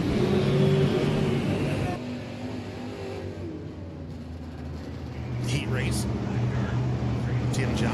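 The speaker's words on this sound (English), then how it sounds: "Watching these stock cars as they slide down into one and two" Stock cars race around a dirt track, their engines roaring and revving loudly, easing off in the middle and building again, under a commentator's continuous talk.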